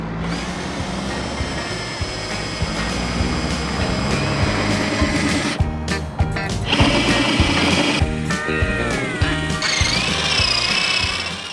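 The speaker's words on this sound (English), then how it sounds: "Then we're going to follow up with a spade bit." Drill with a spade bit boring a hole in a boat hull, giving a steady, loud, buzzing whine that runs throughout with slight shifts in pitch, close up and with no talk.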